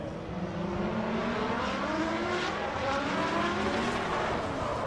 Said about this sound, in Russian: Такое ощущение, что уже в разгоне ехал боком Евгений Сатюков